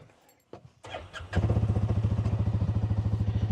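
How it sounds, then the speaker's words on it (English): A Hisun side-by-side UTV engine starts after a few clicks and thumps, then settles into a loud, rapid, evenly pulsing idle heard close by with no talk. "I've always thought that Hisun had a really nice sounding engine"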